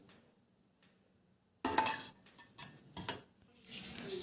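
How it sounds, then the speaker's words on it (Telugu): Curd being stirred into boiled vermicelli for a curd vermicelli dish: after a near-silent start, close spoon-and-bowl mixing scrapes and soft clinks begin and continue in uneven bursts. "సో ఇప్పుడు మనం పెట్టుకున్న సేమియాలో ఈ పెరుగు వేసుకుందామండి"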